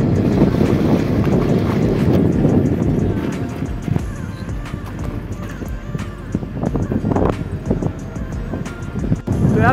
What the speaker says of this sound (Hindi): तो स्कूटी से जाता हूँ आज